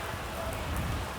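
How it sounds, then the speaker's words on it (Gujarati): Continuous rain falls in a steady, faint, even hiss with no breaks or other sounds over a brief stretch. "એટલે વરસાદ કન્ટિન્યુ ચાલુ જ છે"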